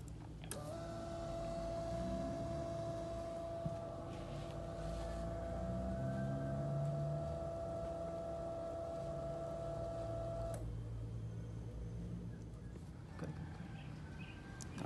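Pump motor of a solar-powered watering system running steadily, a constant hum with a sustained tonal whine that stops abruptly near the end, leaving quieter background noise.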